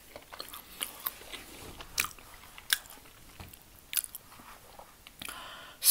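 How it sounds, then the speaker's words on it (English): Biting and chewing on creamy Spam western pasta salad, with crisp bites and soft chewing sounds repeating at an irregular pace, close and fairly quiet, with no talking. "One more bite."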